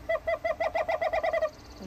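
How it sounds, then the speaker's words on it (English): An owl call at the Oregon Zoo: a rapid series of about a dozen evenly spaced hooting notes lasting over a second, loud and close, then stopping. "Oh, here's an owl."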